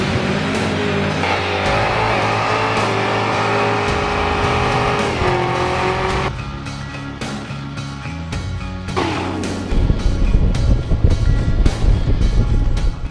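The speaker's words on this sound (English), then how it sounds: "bam, smoky burnout" A Camaro ZL1 doing a smoky burnout: a loud engine revving hard and holding high revs, then backing off, with tire squeal and a roaring surge near the end, heard up close with no talking.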